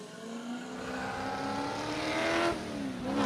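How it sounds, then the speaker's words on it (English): An Allard J2 race car pulls away from the start line of a hillclimb, its engine revving hard and rising in pitch as it accelerates, loud and close with no talk. "Car sounds absolutely beautiful off the start line as it makes its way up the hill."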